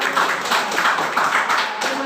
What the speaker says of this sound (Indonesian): Kita kasih tepuk tangan untuk.